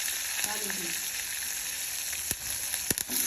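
Chopped sweet potato pieces drop into hot oil already crackling with mustard seeds and cumin, a steady close sizzle with a few sharp pops and scrapes near the end.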